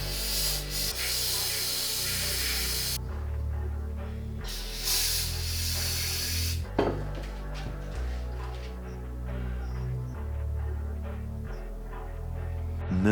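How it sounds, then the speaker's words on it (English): Two long bursts of pressurized carburetor cleaner spray hiss loudly onto a BMW oxygen sensor against a steady background of music, followed by scrubbing and rubbing sounds. "we're going to get the rest with that pressurized spray"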